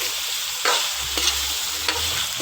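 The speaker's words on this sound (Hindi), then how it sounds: "अब मैंने ये 2 छोटे साइज़ के जो आलू काटे थे, पहले मैं उनको डाल के इसमें मिक्स करती हूँ।" Two small cut potatoes fry in ghee while being stirred, for a cauliflower and minced mutton dish, giving a close sizzle with a few sharp spoon scrapes and knocks against the pan.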